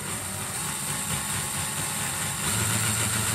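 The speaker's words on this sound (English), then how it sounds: "We're going to drill a hole in it." A close, continuous motor whir of an electric drill running steadily while drilling a hole for a windshield on a Lifan KP mini 150 motorcycle, with a slight drop in pitch near the end.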